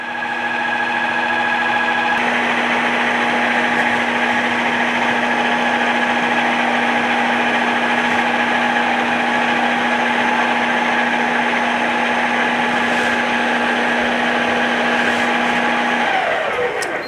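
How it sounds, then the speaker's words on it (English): A Ninja Swirl ice cream maker runs with a loud, steady motor whir and a sustained hum, continuous and close, winding down near the end. "I think that the Ninja Swirl might be a little bit more loud than my Ninja Creami Deluxe"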